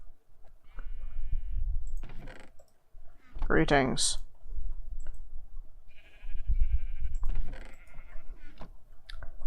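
Sheep bleating in the Minecraft Heresy modpack, a short game bleat bursting out mid-clip between stretches of someone talking and soft in-game clicks and chewing noises.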